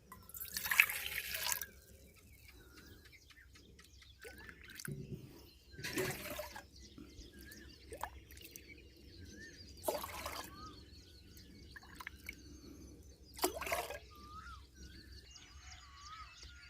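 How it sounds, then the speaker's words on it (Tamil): Water poured from a small tumbler into another vessel while making banana root drinking water, heard as several separate splashing pours spaced a few seconds apart, moderately close, with faint drips and birdsong in the quiet background. "சின்ன சைஸ் டம்ளர் எடுத்துக்கிட்டு இதில் இருக்கிற தண்ணியை நாம் இன்னொரு பாத்திரத்துக்கு மாற்றி வச்சிடலாம்."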